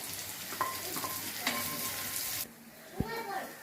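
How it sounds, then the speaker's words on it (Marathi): Green chili, garlic and onion frying in oil in a pan, with a soft steady sizzle and a few utensil clinks, and a quieter pause near the end. "आणि थोडंसं ते तेलामध्ये भाजून घेऊ मिरची आणि लसूण थोडासा भाजला"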